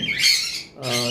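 Two loud, harsh lovebird squawks come close by on a bird farm, with a short pause between them.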